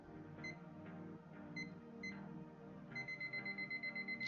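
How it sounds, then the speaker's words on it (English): A kitchen-style timer being set gives a few isolated electronic beeps, then a quick steady run of beeps near the end, heard over a continuous tonal background. "Setting my timer again."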